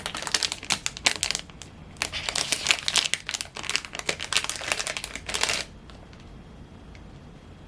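Packaging is torn and crinkled as its top part is ripped off, making dense bursts of crisp crackling and tearing up close. The noise stops abruptly and quiet background follows.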